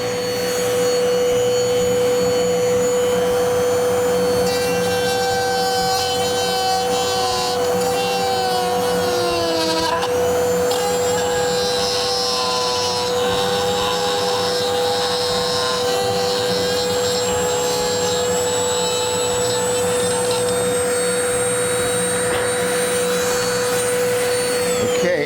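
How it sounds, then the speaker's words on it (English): A Dremel rotary tool runs continuously on a plastic K'Tinga model kit while cutting a hole, its high steady whine shifting in pitch as the bit bites into the material, loud and close throughout. "I'm gonna go Dremel tool a hole in there."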